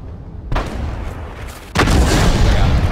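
Two heavy artillery blasts from World of Tanks, a sharp boom followed about a second later by a louder, fuller one that rolls on afterward, close and powerful.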